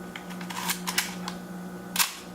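A Leicaflex SL2 single-lens reflex camera with its shutter set to 1/1000 second, heard as a run of crisp, close mechanical clicks and clacks, several in quick succession and then one louder snap, over a low hum.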